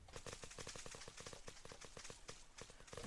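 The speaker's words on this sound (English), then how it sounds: "there's shots coming over there" Gunfire in the zombie survival video game Unturned: rapid, evenly spaced shots in a steady automatic stream that runs the whole time, fairly faint and distant-sounding, with no talking.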